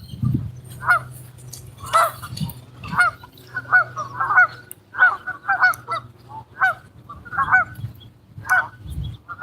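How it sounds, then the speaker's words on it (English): Geese honk repeatedly near a lake, with loud, fairly close calls coming in uneven bursts over a low outdoor rumble. "The birds are smart. They went just far enough to where they're out of reach of Carlo."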